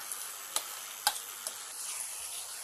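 Onions and marinated chicken sizzle in a pan while being stirred, a soft continuous frying hiss punctuated by a few sharp spoon clicks against the pan.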